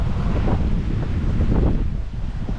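Strong wind of about 20 to 25 knots roars over the microphone on a sailboat at sea, with two-metre waves surging and crashing around the hull in a loud, continuous rush.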